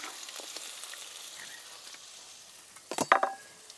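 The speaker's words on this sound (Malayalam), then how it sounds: "എണ്ണ ചൂടായി വന്നാൽ ഞാൻ ഒരു വലിയ ഉള്ളി നീളത്തിൽ അരിഞ്ഞിട്ടുണ്ട് അതിട്ട് കൊടുക്കാം" Long-sliced large onion sizzling in hot oil, a soft steady frying hiss throughout, then a louder burst of clattering and sizzle near the end as the onion is stirred, no talking.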